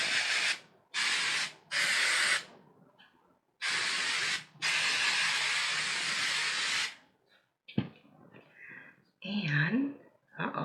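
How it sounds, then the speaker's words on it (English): Hairspray hisses onto hair in several short bursts and one long continuous spray, close and loud, followed by quieter rustling and brief bits of voice. "I'm just going to do a final spray"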